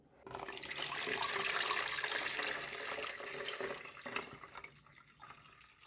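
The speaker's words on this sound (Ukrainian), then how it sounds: "Я тепер беру, просто зливаю воду." Water drained from soaked orchid bark pours out in a steady splashing rush for several seconds, then tapers into trickles and a few drips.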